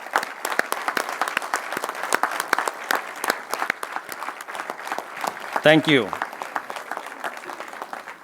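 Auditorium audience applauding a standing ovation for an honoured speaker at a public health outreach event, sustained crowd clapping throughout with a brief spoken thanks near the end.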